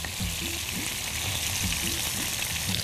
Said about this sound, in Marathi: तेल तापल्यावरतीच ते बोंबील त्याच्यामध्ये टाकायचे